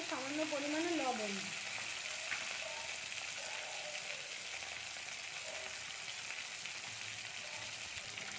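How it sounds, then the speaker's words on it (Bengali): Dried fish frying in hot oil gives a steady, faint sizzle and crackle that carries on alone, with a short burst of voice-like sound near the start. "দেখুন বন্ধুরা, আমাদের তেলটা গরম হয়ে গেছে। এখন আমরা এর মধ্যে শুটকি মাছগুলো দিয়ে দেবো।"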